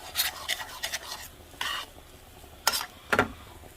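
A pan of gumbo roux being deglazed and stirred gives off soft sizzling with a series of short scraping spoon strokes, close and fairly quiet, separated by brief pauses.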